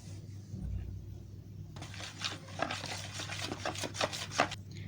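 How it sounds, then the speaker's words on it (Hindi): Flour batter paste being stirred with green food colouring for fried crunchy pea snacks, a soft wet scraping and stirring in a bowl that starts partway through and continues in uneven strokes, close and moderately loud. "इस पेस्ट में हम ग्रीन फूड कलर ऐड करेंगे। इसको मिक्स करेंगे।"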